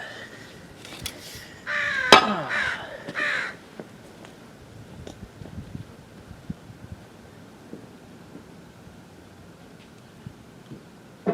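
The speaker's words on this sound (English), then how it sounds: "And as you can hear, the crows have noticed what I'm doing." Crows caw over a backyard garden where food waste has been buried in the soil, a few loud harsh calls bunched early on, then quiet outdoor ambience with faint scattered taps and rustles.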